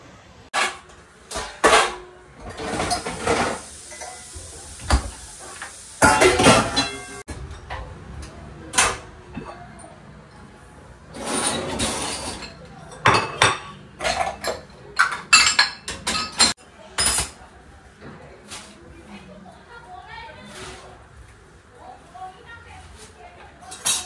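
Dishes, pots and cutlery being arranged in a home kitchen during winter meal prep, with repeated close clinks and clatters in irregular bursts, some louder knocks and scrapes between quieter pauses.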